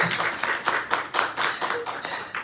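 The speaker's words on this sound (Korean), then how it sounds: "오늘 긴 시간 함께 해주신 허범씨께 한 번 더 박수 부탁드리겠습니다" Audience clapping for a speaker at the close of an evening talk on archaeology at D Museum, a steady patter of hands with rhythmic surges, fairly close and lively, no voices over it.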